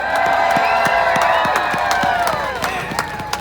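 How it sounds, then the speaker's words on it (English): A live crowd at an outdoor holiday train event claps and cheers for a band, with steady applause, scattered whoops and sharp hand claps filling the scene at close range. "let's give a big warm welcome, or a nice round of applause, rather, for my amazingly talented band."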